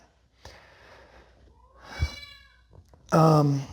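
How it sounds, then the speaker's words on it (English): A house cat meows close by, a short soft cry and then a louder drawn-out meow, while someone talks quietly. "you might be able to hear my cat. Cat's wanting some love."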